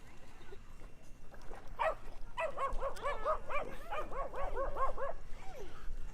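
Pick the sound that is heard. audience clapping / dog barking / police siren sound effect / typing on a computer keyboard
dog barking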